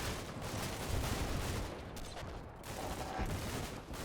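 Heavy gunfire from a Combat Mission Black Sea battle, a dense, unbroken fusillade of overlapping shots and bursts that stays loud and roughly constant throughout, with only slight dips.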